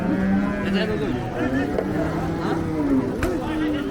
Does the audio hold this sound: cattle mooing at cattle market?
yes